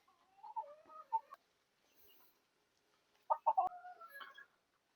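Chickens in a coop built to hold around 300 birds, giving short bursts of clucking and throaty calls, with a louder cluster of close clucks near the end and quieter stretches between.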